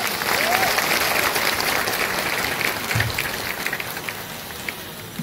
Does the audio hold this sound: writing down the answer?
no